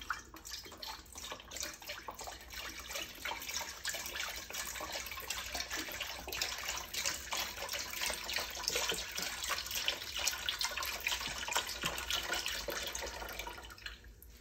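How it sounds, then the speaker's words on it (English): Chicken stock is poured from a box into a pan, making a steady, faint splashing pour that runs continuously with no talking. "you're going to grab the chicken stock and you're going to dump that in"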